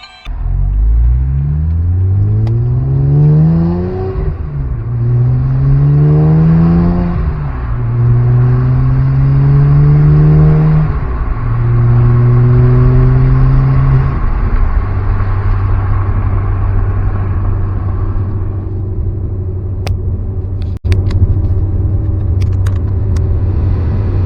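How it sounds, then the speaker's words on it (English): A car pulling away on a test drive, its engine rising through several gear changes then settling into a steady cruising hum, loud and close from inside the cabin, with no talking. "So let's go on our first test drive."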